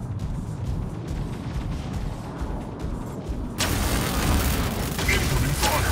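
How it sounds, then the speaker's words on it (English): Mech weapons fire and explosions in the mobile game Mech Arena, a continuous rumbling barrage that swells into a louder, denser burst of blasts partway through, with a voice speaking over it. "Incoming fire."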